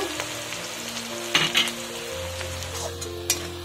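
Two onions fry in carrot oil, giving a continuous sizzle with a few sharp clinks and scrapes of a utensil stirring the pan. A low steady hum runs underneath.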